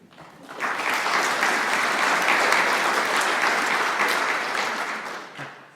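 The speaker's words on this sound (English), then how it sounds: "I think you deserve a round of applause for it." Sustained audience applause for the organisers of a talk event, a dense, steady wash of many hands clapping that swells quickly, holds for several seconds and fades away.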